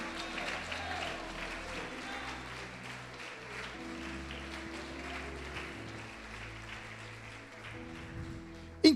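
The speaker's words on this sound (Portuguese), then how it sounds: "Você pode aplaudi-lo e glorificá-lo?" A church congregation claps during a sermon, a faint, muffled spread of applause in a reverberant hall with low tones droning underneath.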